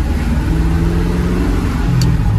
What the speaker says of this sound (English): We're driving our early 60s Chevy Impala